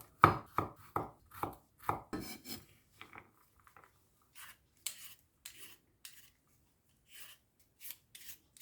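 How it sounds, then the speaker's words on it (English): Knife chopping vegetables on a cutting board for a Filipino sipo egg with shrimp dish: a quick run of close, crisp cuts, then softer scattered ones, with no voices. "Cut the vegetables in uniform size for even cooking."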